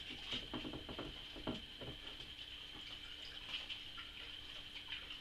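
Homemade coffee liqueur liquids being stirred and mixed together, a faint close patter of liquid sloshing with soft irregular splashes and clinks.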